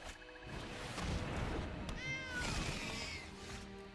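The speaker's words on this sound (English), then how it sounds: "Meow is right." A household cat meows clearly in several rising and falling calls, close and fairly loud, over low background noise indoors.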